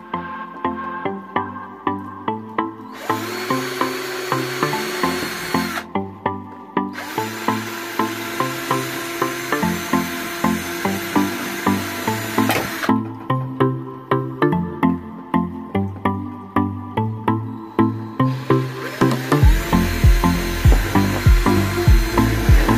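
Power drill driving in screws while fitting a hood light on a 20-gallon long aquarium, in repeated short bursts of whirring with pauses between them and a few louder, rougher runs toward the end, close and clear with no talk.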